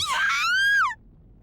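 Iria, a character in the Tokyo Necro visual novel, lets out a single loud, close, high-pitched scream that rises, holds for nearly a second, then falls off abruptly into quiet.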